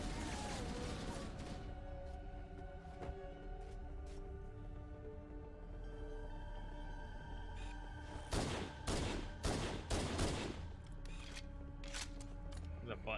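Gunfire in Halo: Combat Evolved, with bursts of rapid shots and scattered single cracks layered over game music and ambience, growing heavier and denser toward the second half.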